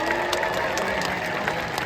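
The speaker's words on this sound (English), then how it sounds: "So let's give her a big giant round of applause." Audience applause at a birds of prey show at the Maryland Renaissance Festival: dense, steady clapping from a crowd that holds at an even loudness for about two seconds, with no voices above it.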